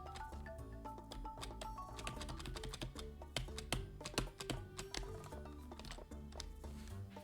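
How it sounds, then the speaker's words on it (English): Computer keyboard keys clicked rapidly while playing Stardew Valley, a close, crisp clatter of many quick taps with a faint musical game soundtrack underneath. "Y'all hear me like clicking the keys and nothing's happening"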